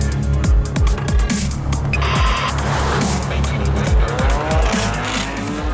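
A Volvo car with the new Drive-E engine lapping a racetrack, engine roaring loudly and continuously with rising and falling revs as gears change, tires squealing through corners, close and intense throughout.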